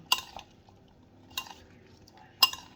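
Home cooking with a utensil scraping and clinking against a pot, three separate stirring strokes spaced about a second apart against quiet background.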